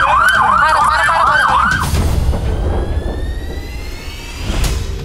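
Police car siren in city traffic: a loud, close rapid wail that cycles for about two seconds, then cuts off, leaving rumbling road and engine noise and a brief later burst.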